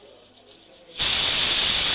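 A sharp, loud hiss of steam bursts from a pressure cooker whistle cooking dal after a quiet moment and keeps going steadily, high-pitched and whistling.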